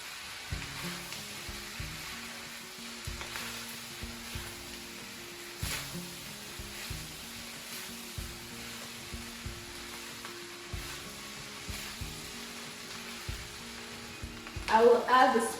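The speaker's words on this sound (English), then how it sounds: "I'll add the rice. I'll just mix it all in." Vegetable rice sizzles steadily in a pan while a utensil stirs and scrapes through it in irregular strokes, close and continuous, with a louder clatter near the end.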